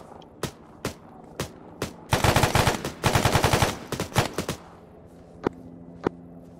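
Gunfire in the video game Arma 3: sharp single shots spaced apart, then two dense automatic bursts in the middle, trailing off into a few more isolated loud cracks.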